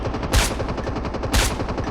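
Two loud, sharp gunshots, a second apart, from a sniper rifle in the mobile game Call of Duty Mobile battle royale, over a steady ongoing game background with no talk.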